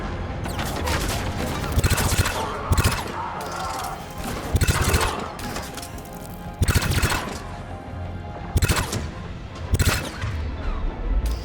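Heavy bursts of cannon fire in Mass Effect 3 boom in rapid volleys over a constant mechanical rumble, with short pauses between salvos.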